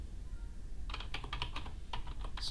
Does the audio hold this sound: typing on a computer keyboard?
yes